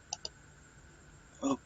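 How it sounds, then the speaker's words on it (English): Two quick, faint mouse clicks close together, followed by a slightly louder click-like sound a moment later in a quiet room. "Click on index, refresh."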